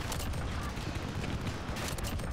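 Dense, continuous gunfire from the Modern Warfare shooter game, a loud and unbroken roar of shots with a few sharper cracks standing out.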